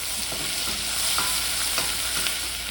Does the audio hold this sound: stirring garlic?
yes